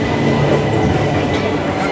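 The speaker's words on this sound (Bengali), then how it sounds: "ট্রেন ঢুকে গেছে আমাদের" A train enters a railway station platform with a loud, continuous rumbling roar and rattling wheels, close by and steady throughout.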